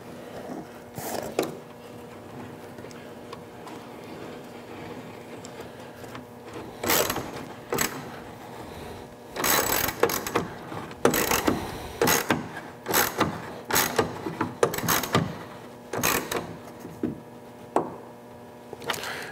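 A bolt on a Putco pop-up truck bed rail is tightened with a ratcheting tool. Bursts of quick mechanical clicks come up close, with short pauses between them and quiet stretches in between.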